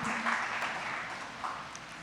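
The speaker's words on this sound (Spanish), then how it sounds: "Fuerte el aplauso a nuestro Dios" Church congregation applauding at a service, a steady wash of clapping held at an even level for a couple of seconds, fairly close and with no talking.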